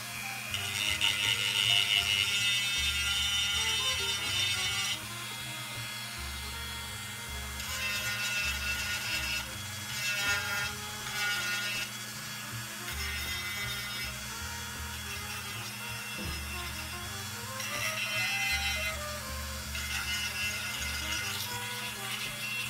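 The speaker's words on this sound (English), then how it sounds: "I'll just put a abrasive sanding disc on the end of a flex" A rotary tool with an abrasive sanding disc on a flex shaft whirs continuously against a wooden banana holder, a steady close hum with shifting grinding tones as pressure changes, no talk.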